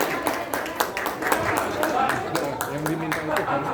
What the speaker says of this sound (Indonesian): Jadi tepuk tangan yang luar biasa buat Debnya.